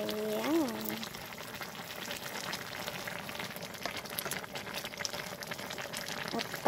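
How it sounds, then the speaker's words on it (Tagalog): Jackfruit (langka) boiling in a pot for a budget provincial dish, a steady bubbling, simmering wash that continues throughout at moderate level, with a brief tonal sound near the start. "At pakuluan lang natin ng mabuti para maluto yung langka."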